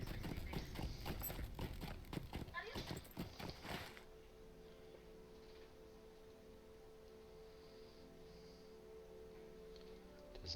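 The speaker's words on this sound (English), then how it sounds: "I better ride a horse." Horse hooves clip-clopping as a character rides in the Lord of the Rings Online video game, a quick rhythmic run of hoofbeats for about four seconds, then a quiet game ambience hum.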